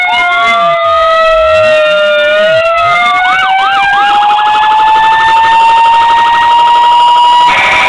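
A loud electronic siren from a toy FDNY Seagrave fire engine sweeps up and down in a wailing pattern, then shifts into a faster yelping cycle, continuous and close with no talking.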